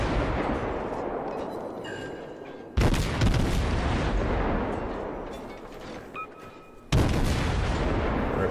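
Two heavy naval gun salvos boom sharply in World of Warships aboard the tier 7 American destroyer Mahan, each a sudden loud blast followed by a rumbling decay, with quieter distant firing and engine ambience between.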